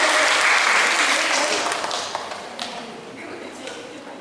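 An audience applauds at a women's fashion parade competition with ulos Batak-themed clothing, a dense burst of clapping that starts strong and gradually thins and fades over a few seconds.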